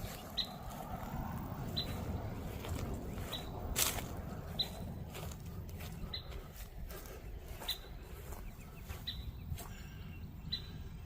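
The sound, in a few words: birds chirping in a calm cemetery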